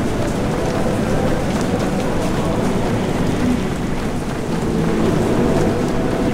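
Steady, dense rain from the game Abadía del crimen extensum falls with a constant loud hiss and patter, unbroken for the whole stretch.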